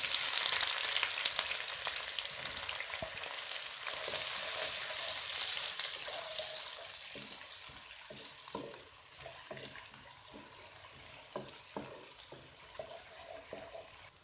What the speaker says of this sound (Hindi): तेल हमारा गर्म हो चुका है, अब प्याज डालेंगे इसमें और फ्राई करेंगे।